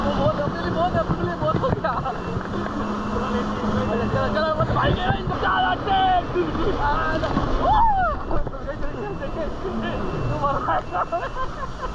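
A boat ride on the water in Karachi: a rumbling motor and wind buffeting the microphone with water splashing, while people talk and shout over the steady noise throughout.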